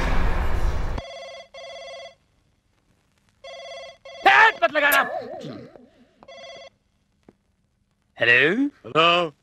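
An old-style telephone bell ringing in repeated short double bursts, loud and close, alternating with spoken voices and a brief music sting in a Hindi comedy film.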